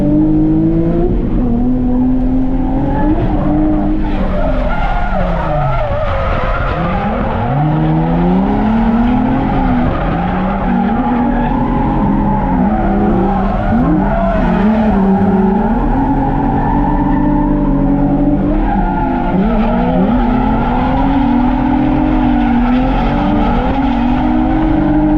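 A slightly understeering car's engine roars and revs continuously while tires squeal loudly through long sliding drifts, close and sustained throughout.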